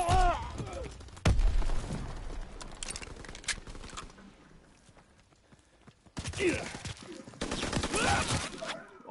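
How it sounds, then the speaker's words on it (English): Rapid bursts of gunfire from allied soldiers in Call of Duty WW2, a World War II shooter, crackling in loud clustered volleys with a sharp blast near the start, amid intermittent game effects and quieter gaps. "My own team was shooting."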